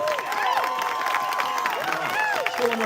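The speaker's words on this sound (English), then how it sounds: "We're gonna clap it up." At a commencement ceremony, a large crowd keeps up clapping mixed with cheering and excited voices, a dense, steady roar with scattered shouts standing out.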